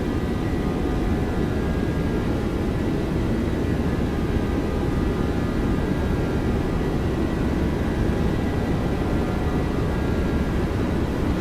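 Boeing 737-800 engines at takeoff thrust in X-Plane, a steady, loud, unbroken roar with broadband rush and a faint whine, holding constant throughout with no voices.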